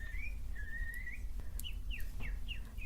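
A man whistles his own imitation of a bird call: a sustained steady whistle, then a series of short, quick, repeated chirp-like notes over a low background hum, fairly faint.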